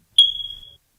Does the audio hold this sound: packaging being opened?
no